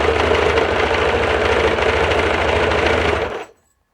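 A sewing machine stitches a suit in a steady, loud, fast mechanical whir that runs without pause for over three seconds, then stops abruptly into silence.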